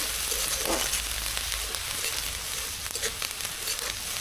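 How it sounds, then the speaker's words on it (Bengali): Onion paste fries in oil for a rohu fish curry in yogurt, a loud, even crackling sizzle with occasional stirring knocks, without any talk. "পেঁয়াজ বাটাটা একটু ভালো করে ভেজে দিতে হবে।"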